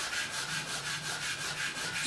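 A P-tex repair on a ski base being rubbed and buffed smooth, a steady close scraping and rubbing with a soft repeating back-and-forth rhythm, alone without talk.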